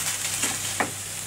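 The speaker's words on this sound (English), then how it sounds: "So you can hear that's sizzling a little bit." Soft, steady sizzling of ragu sauce ingredients frying in a pan, quiet and close, with a light stir or scrape partway through.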